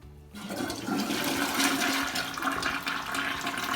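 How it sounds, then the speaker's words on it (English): A toilet treated with car wax flushes close by, a steady rushing swirl of water filling the bowl that starts abruptly and keeps going to the end, with no voices. "We fill up the bowl with water by flushing it now."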